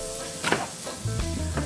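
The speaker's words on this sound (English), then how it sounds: "Stirring occasionally until the fat renders out brown and crispy." Turkey bacon and garlic sizzle and fry in a pan, with a steady close crackle broken by a few louder bursts as the pieces are stirred.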